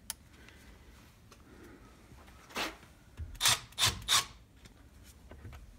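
An M12 Fuel impact driver drives a 3.5 inch lag screw into wood at speed setting 3, giving about four short bursts of rasping hammering, close and fairly loud, after a quiet start.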